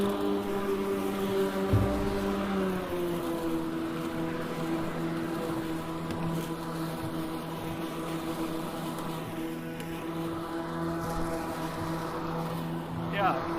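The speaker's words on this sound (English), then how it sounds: "let's go ahead and mow this little patch right here." GreenWorks Twin Force battery lawn mower mowing a small patch of grass, a steady moderate whir with tonal motor hum holding throughout at fairly low volume, nearby and continuous.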